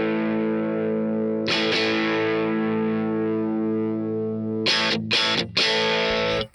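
An electric guitar played through a tube amp and a Two Notes Captor X with its brilliance boosted rings out as a long, sustained distorted chord, then a few sharp choppy strums, bright and loud.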